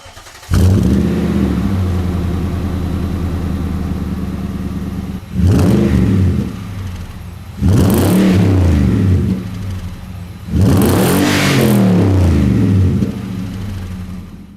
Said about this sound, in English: Let's go ahead and fire it up and see how it sounds.